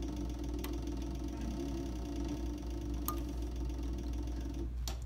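A CB 3200 heavy-duty sewing machine works a leather holster, giving a low, steady mechanical hum with a few sharp ticks and clicks scattered over it and no voices.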